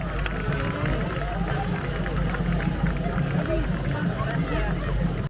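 A festive crowd at an Easter Holy Week procession in Delia, Sicily roars and cheers continuously as the statue of Christ is carried up at a run, with dense babble, shouts and running footsteps all the way through.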